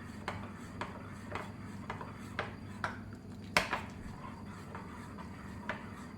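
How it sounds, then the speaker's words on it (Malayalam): A spoon stirs hot jaggery syrup into kalathappam batter in a pot, making faint, steady scraping taps about twice a second with one sharper knock partway through, close and quiet. "ഇനി ഇത് നന്നായിട്ട് ഇളക്കി കൊടുക്കും."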